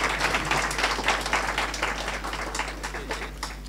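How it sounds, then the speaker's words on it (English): Audience applause at a biennial teaching awards ceremony, honouring a school principal for a national award commendation; steady dense clapping from a crowd that holds throughout, with a faint low hum beneath. "give the man a clap"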